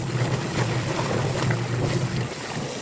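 Manual washing machine with an 8 kg load churning through its first rinse, a steady close whooshing and sloshing of water with a low motor hum, no voices.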